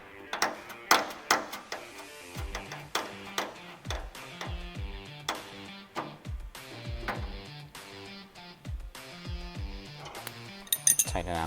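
Metallic clinks and ratcheting clicks from tightening heim joint mount bolts on an ARC quarter midget race car, a series of close, sharp taps and wrench turns in irregular bursts.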